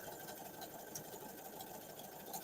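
A sewing machine runs forward in a steady, continuous mechanical whir, close and fairly loud, with a fast even stitching rhythm and no talk over it.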